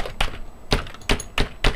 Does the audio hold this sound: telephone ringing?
no